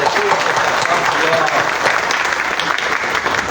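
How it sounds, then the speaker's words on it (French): Applause from the assembled audience at a closing ceremony for a judicial police officer training course, a steady, loud burst of many hands clapping at once throughout. "chère assistance, je vous prie d'applaudir"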